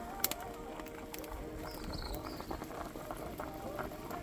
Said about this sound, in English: you can see the pot boiling in the corner